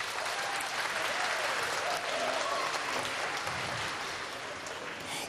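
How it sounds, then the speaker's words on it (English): An audience at a jazz history talk breaks into steady, sustained applause that fills the hall evenly from start to finish, with a dense wash of clapping and no speech. "Round of applause."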